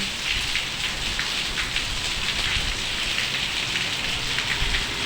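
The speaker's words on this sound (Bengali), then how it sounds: "প্রচণ্ড বৃষ্টি" Heavy rain pours down steadily, a dense, loud, unbroken hiss of drops drumming on surfaces with no pauses, close and continuous throughout.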